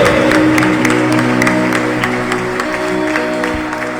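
A church congregation at a Sunday service claps steadily and loudly for about four seconds. The applause is a dense, continuous patter with faint voices mixed in.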